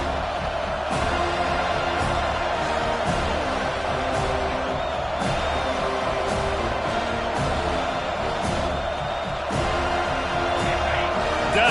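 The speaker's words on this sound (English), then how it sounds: "Decibels rising as the crowd gets behind this defense on 3rd down" A college football stadium crowd roars on third down, a sustained loud wash of cheering with steady intensity and occasional sharp bangs punctuating the din.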